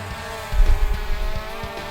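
Small drone motors whir with a steady buzzing hum that swells and rises in intensity as throttle is applied, heard nearby with some low rumbling handling noise.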